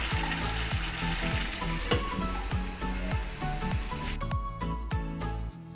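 Masala frying in oil for dum chicken biryani, a steady loud sizzle with repeated stirring scrapes against the pan, no talking.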